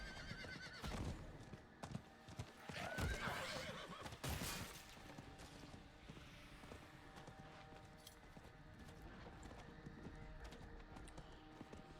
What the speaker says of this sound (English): I can run faster than you on my horse.